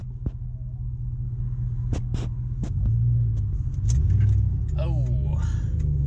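A C5 Corvette engine idles with a steady low rumble, joined by scattered clicks, jangles and brief squeaks close by, with a slight rise in engine loudness partway through.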